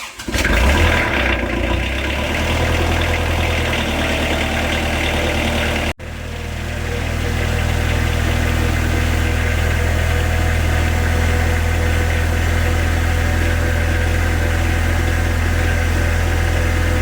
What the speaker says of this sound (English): I'm going to crank the tractor and see if she leaks.